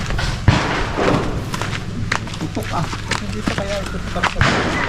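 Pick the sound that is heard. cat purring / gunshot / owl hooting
gunshot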